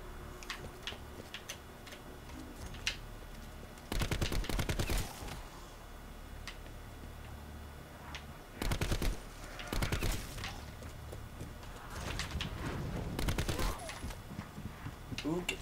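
Gunfire rings out in Black Ops 4 Zombies, with several short bursts of rapid shots standing out over a busy game background of ticking and clatter, moderately loud and spaced a few seconds apart.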